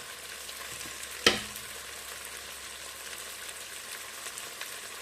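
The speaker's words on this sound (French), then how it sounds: "je vais le mettre de côté pour faire revenir l'oignon" Onion sautéing in a pan with oil while turkey osso buco is prepared: a faint, steady sizzle runs throughout, broken once near the start by a sharp utensil clink, with no talking.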